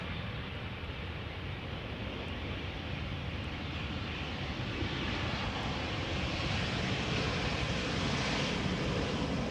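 An EasyJet airliner at Amsterdam Schiphol Airport produces a steady, broad jet engine roar that swells slightly toward the end, heard from a moderate distance with no talk.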